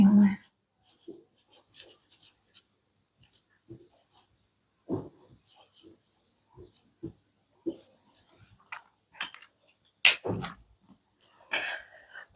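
Marker or chalk strokes on a classroom board during a physics lecture come as short, scratchy scrapes and taps in irregular bursts separated by quiet pauses, with occasional faint breathing or vocal sounds.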